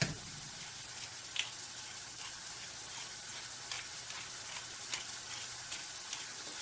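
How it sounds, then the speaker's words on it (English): Ground meat with onions and garlic browning in a skillet with no added oil, a soft, steady sizzle heard close but faint, with occasional light clicks of stirring and no talking. "I'm going to let this all cook together until the meat is browned and the onions are translucent"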